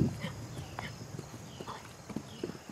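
Rhythmic hoofbeats of a horse loping at a moderate distance, a steady three-beat clip-clop over faint background noise.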